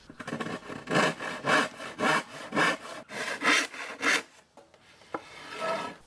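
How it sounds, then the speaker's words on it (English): A restored Disston hand ripsaw cuts along wooden boards in steady back-and-forth strokes, about seven rhythmic rasping passes close by, then the sawing stops and a few lighter knocks and scrapes follow. "Ripsawing these boards is a lot faster and easier now we have our restored Disston ripsaw."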